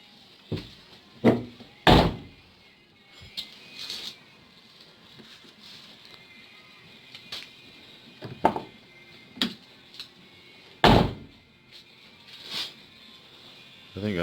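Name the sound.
Chevy S10 Blazer door being shut after door pin mod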